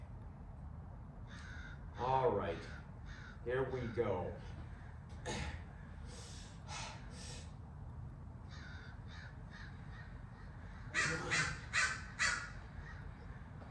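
Several crows caw in bursts of harsh calls, some loud and near, others fainter, with a brief spoken phrase among them.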